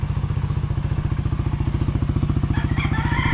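Motorcycle engine idling steadily up close, a dense even low throb with quick regular firing pulses, while brief faint chirps rise behind it near the end.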